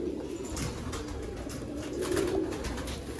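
Pigeons coo steadily in a pigeon loft, low soft rolling calls repeating close by over a faint background hiss, with no talking.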